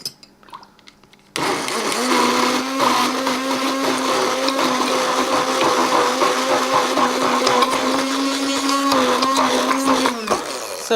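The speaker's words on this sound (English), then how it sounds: "So I'm just going to blend this guy up with my stick blender" A stick blender whirs steadily and loudly through a thick tahini dip for about nine seconds after a quiet start, with a sustained motor hum that wavers slightly, then cuts off.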